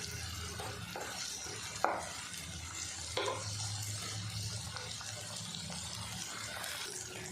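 Tomatoes sautéing over a medium flame in a pan for bitter gourd curry, stirred with a soft steady hiss and a couple of sharp utensil knocks, close by with no talking.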